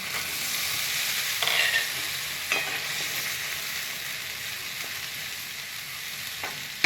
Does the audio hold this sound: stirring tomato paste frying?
yes